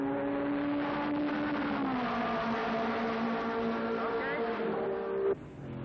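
A steady race car engine drone holds near on an old airstrip course, with a pitch that dips and a second higher whine briefly joining before it cuts off abruptly.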